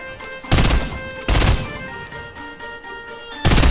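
Gunfire in the video game Fortnite, several loud bursts of rapid automatic fire with ringing game music and effects sustained between them.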